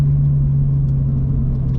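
A Toyota GR86 fitted with an MBRP exhaust drives along, a loud, steady low engine drone and rumble with a strong constant hum, heard from inside the car.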